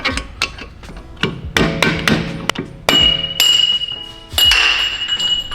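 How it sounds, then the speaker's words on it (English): Repeated hammer blows ring out on the front hub of an older Porsche 911, a series of sharp metallic strikes with clinking, glassy overtones and some ringing sustain, close and loud. "Porsche hammer."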